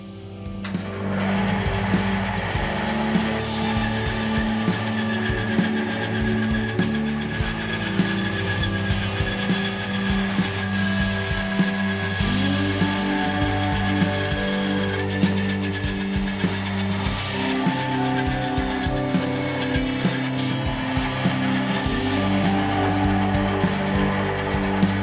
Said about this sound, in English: So we can just get this back to the bandsaw and get that sliced off.